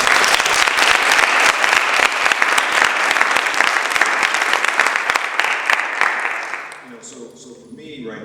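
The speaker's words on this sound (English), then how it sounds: "a round of applause to all of you and to yourselves" Loud, sustained applause from a crowd at a scholarship awards ceremony, dense clapping that fades out near the end, leaving quieter background sounds.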